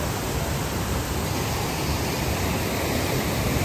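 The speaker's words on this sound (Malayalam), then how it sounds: "ഇവിടെ ഒരു വെള്ളച്ചാട്ടുണ്ട്," A waterfall in the Valparai hills roars as a steady, loud, dense rush of falling water, unbroken and with no voices.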